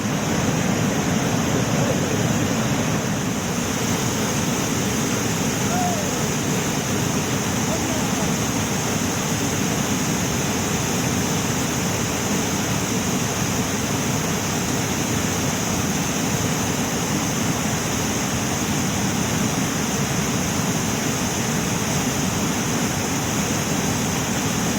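Heavy rain pours outdoors near a mountain chalet, a loud unbroken hiss of dense falling water that stays constant throughout.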